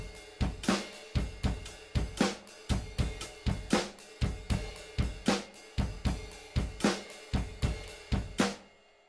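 Drum kit played in a blues beat during a live drum lesson, with a steady run of evenly spaced kick, snare and hi-hat hits in a loping pattern, close and clear with no talking.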